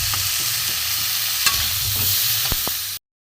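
Cauliflower fries with spices on low heat, a steady close sizzle with repeated soft scrapes of a spatula and a couple of sharp clinks before cutting off.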